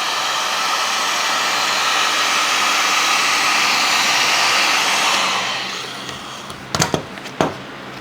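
A heat gun blows steadily and loudly for about five seconds while warming yellow vinyl wrap on the daytime running lights of a Mazda MX-5 ND, then cuts out, followed by a few sharp handling knocks.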